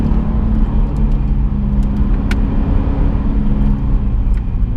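A Cadillac CTS-V second generation on 295-section tires drives hard with a loud, steady engine drone and low rumble close by, its tone holding even throughout.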